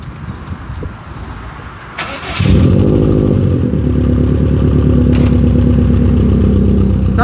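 A car engine with a Stage 3 tune cranks and fires up abruptly without throttle, then settles into a loud, rumbly idle with a deep, throaty tone, close by and steady.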